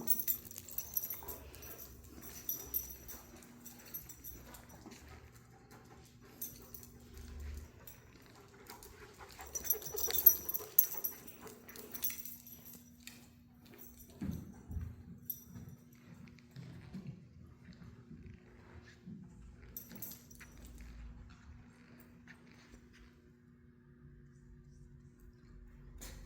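A search dog moves about a hall, panting and giving soft whimpers, with faint jangling and shuffling, quiet and intermittent over a low steady hum, a few louder bursts near the middle.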